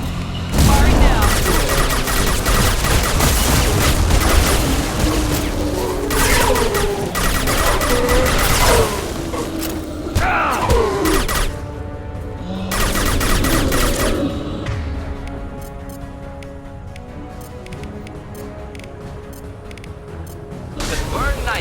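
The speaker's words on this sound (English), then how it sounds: "Heavy fire imminent." Heavy gunfire rages in a video game battle, dense overlapping bursts of shots mixed with booms and crashes, loud and nearly continuous before thinning out toward the end.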